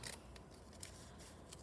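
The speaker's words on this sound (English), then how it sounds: "I'm gonna snip with my scissors" Scissors snip through scratch art paper while cutting out a Greek amphora shape, giving a few sharp, separate cuts up close over a quiet background.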